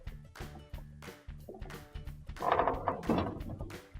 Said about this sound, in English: So we're going to tip our dryer on the back.